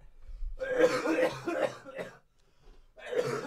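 A person coughs in a harsh, drawn-out fit of several rough hacks, pauses briefly, then coughs again, close to the listener.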